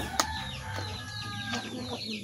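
A chicken clucks close by in short bursts, with a sharp squawk near the start and faint background noise.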